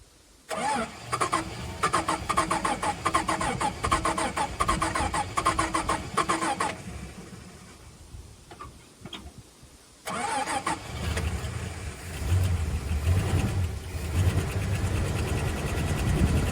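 A VK Dodge ute engine cranks and catches, then runs with a rough, uneven idle, briefly dies down and restarts, loud and close with no talk.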